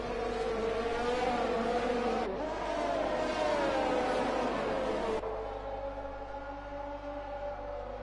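Several race cars in a sim racing league game at the Abu Dhabi circuit hold a steady, buzzing high-revving engine drone, shifting pitch abruptly twice as the view or cars change, with no voices.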